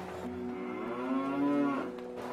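Cattle mooing as a sound effect: a single long, loud, drawn-out moo that rises and swells in the middle before tapering off, heard alone.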